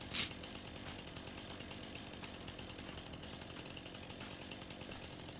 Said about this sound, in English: Can't run with the chainsaw either. We're back to slow crawl with the chainsaw.